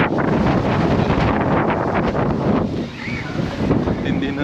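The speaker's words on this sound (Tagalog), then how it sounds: "Sumisipol guys. Naririnig nyo yun guys. Yun yung hangin." Strong wind gusting across an open rooftop deck at a hilltop park in Tagaytay City, a steady close roar of buffeting air on the microphone with a brief lull near the end.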